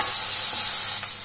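Ginger garlic paste fries in oil for a capsicum masala curry, with a dense close sizzle that drops off slightly near the end during a brief stir.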